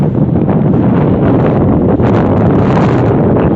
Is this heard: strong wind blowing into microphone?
yes